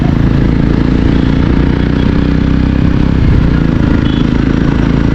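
Three West Bengal motorbikes riding together on a high-altitude North Sikkim road, a loud continuous engine drone with heavy low rumble and wind roar, no pauses or voices.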